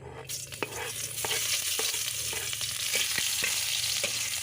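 Garlic sautéing in a little oil in a pan for chicken tinola, with a steady sizzle and frying hiss, occasional utensil scrapes and stirring clicks, close and continuous with no talking.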